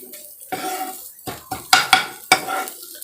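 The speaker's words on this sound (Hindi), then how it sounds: "अब इसे थोड़ा सा और भूनेंगे 1 से 2 मिनट तक," Egg bhujiya fries in a pan while a spatula stirs and scrapes it. Several sharp metallic scrapes and knocks stand out over a soft background sizzle, close and fairly loud.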